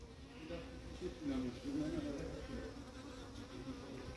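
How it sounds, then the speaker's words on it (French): A hornet and bees buzz close by at an apiary, a wavering drone that swells and fades, with a faint murmur of voices underneath. "Voilà le frelon avec son abeille là qui monte"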